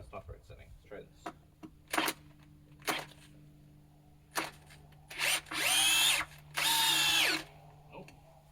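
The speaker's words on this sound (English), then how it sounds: "So I gotta drill some bolts for us." A cordless drill drilling bolts whirs in several short bursts and two longer high-pitched runs, close by, among taps and clicks, with a person speaking in between.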